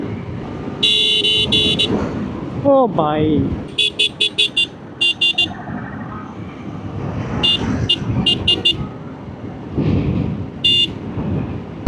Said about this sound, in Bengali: এখন অটোর মতো হর্ন বাজতেছে